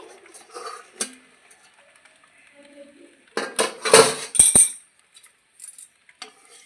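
A lid comes off a cooking pot on the stove, giving a short burst of metal clatter and scraping after a few quiet, faint kitchen clinks.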